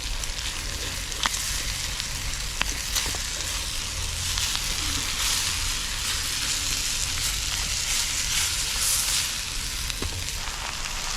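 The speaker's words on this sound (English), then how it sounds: "I'm just going to saute that up a little bit longer to kind of caramelize the brown sugar I put in there" Brown sugar and mustard sauteing in a pan over a campfire, a continuous dense sizzle and crackle with a few faint clinks of stirring, close and steady throughout, no voices.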